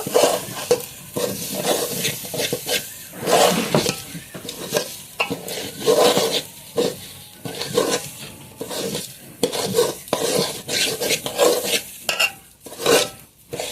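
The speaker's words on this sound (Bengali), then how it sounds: "এখন চালটা ভালোভাবে ভেজে নেব।" Rice for tahari fries and is stirred in a pan, giving a steady sizzle broken by repeated scraping and clattering strokes of a spoon against the metal, close and fairly loud, with no talking.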